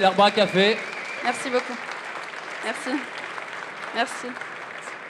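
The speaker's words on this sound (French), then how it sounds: "on l'applaudit encore bien fort" Audience applause at the final of a French barista competition, a steady wash of clapping from a crowd running under a presenter speaking in French over a microphone.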